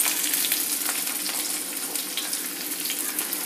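Chopped onion frying in hot oil with cumin seeds, a dense continuous sizzle and crackle, fairly close and steady throughout with no talk.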